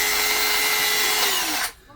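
A cordless 20V battery-powered saw with a 4Ah battery whirs at a steady high whine, its pitch sliding down as the speed is switched before the motor cuts off abruptly; close and loud, no speech.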